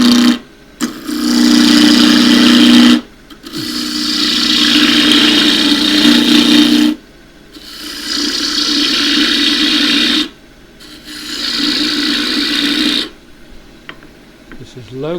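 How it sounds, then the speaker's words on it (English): A half-inch spindle gouge with a 3/8 inch flute roughs a blank of loquat wood down to a cylinder on a lathe, giving loud sustained bursts of cutting noise broken by short pauses. "I'm going to rough this down, get it cylindrical with the 1/2 inch spindle gouge."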